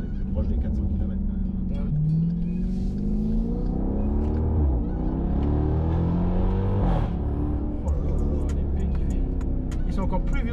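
A 480 hp Jeep SRT with a 6.4-litre V8 rolling through town, its deep engine rumble rising and falling in pitch as it accelerates and shifts, loud and close, with someone talking over it.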